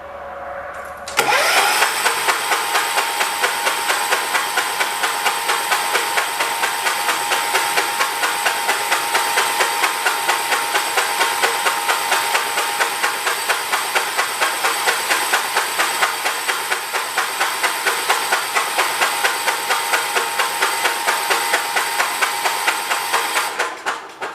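A 1985 John Deere 212 lawn tractor engine cranks over continuously without catching, a loud, steady, rapid mechanical whir and hiss from the starter that runs for over twenty seconds close up with no voices.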